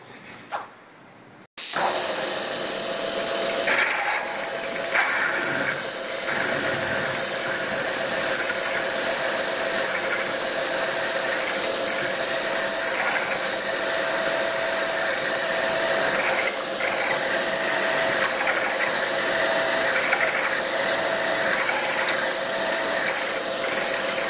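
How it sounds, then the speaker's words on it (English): A milling machine deep-drills a metal bearing housing for an etching press, a loud continuous mechanical whir with steady tonal hum and ratcheting texture running unbroken for over twenty seconds after a brief quiet start. "we can start some deep drilling here"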